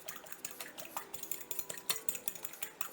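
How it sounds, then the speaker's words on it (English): Eggs and seasoning being beaten in a bowl for country fried steak, a steady run of quick clinking utensil taps against the dish, close and fairly quiet, with no talk. "I'm just going to beat up these eggs, get them, and the seasoning that I have in there"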